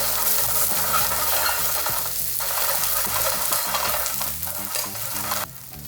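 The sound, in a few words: halloumi cheese cubes searing in hot olive oil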